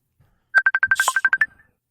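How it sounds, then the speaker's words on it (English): A phone ringtone plays indoors in a short burst of about ten rapid, evenly spaced electronic beeps lasting roughly a second, fairly loud and close, with no talking over it. "Whose phone is that?"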